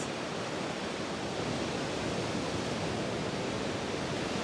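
Ocean waves wash continuously onto a sandy beach in Panama, a soft, even, hissing roar with no distinct breaks.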